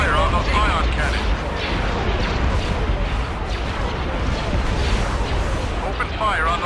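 During a Star Wars Empire at War space battle, starships pour fire onto ion cannons, heard as a loud, unbroken wash of rumbling blasts and mechanical clatter, with faint voice fragments at the edges.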